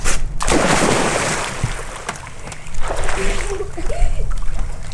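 A person is thrown into water, making a brief splash near the start, followed by sloshing and an outdoor wash of water noise while voices talk and call out.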